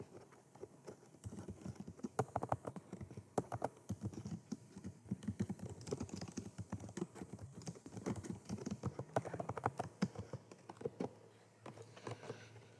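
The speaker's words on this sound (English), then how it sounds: "just continue typing whatever you want to type" Keys clatter in an uneven, fast rhythm of soft clicks and taps, fairly quiet and close, with no voices.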